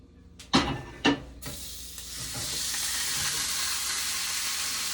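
Ground beef frying in a little oil in a pan for a Puerto Rican pastelon, with a couple of sharp clanks up front, then a steady, close, even sizzle that fills the rest.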